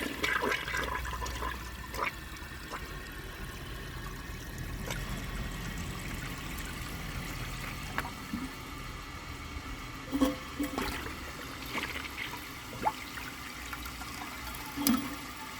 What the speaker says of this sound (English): I'm just going to do a press and release flush